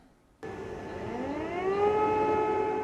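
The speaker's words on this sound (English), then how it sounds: "The early sirens wailed in Ukraine's capital once more." An air raid siren in Kyiv, Ukraine, during a Russian attack starts abruptly and wails on one sustained tone that slowly rises in pitch and grows a little louder.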